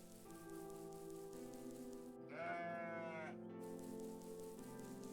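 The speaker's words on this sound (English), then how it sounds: "I think I saw our goat." A single goat bleat from the video game OneShot, a wavering, nasal cry lasting about a second over a steady musical background.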